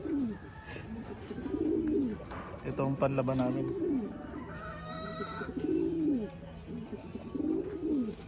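Repeated low, rolling pigeon coos sound close by, alternating with someone talking, with faint higher bird chirps in the background.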